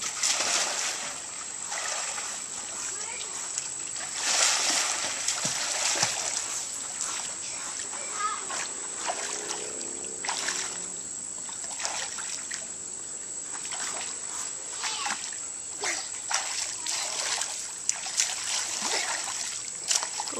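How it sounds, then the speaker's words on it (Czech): Water splashes and trickles steadily as a child performs a playful synchronized-swimming style water dance, with irregular close splashes and dribbles against a steady background hiss. "teď bude krásné představení od Aničky, vodní tanec"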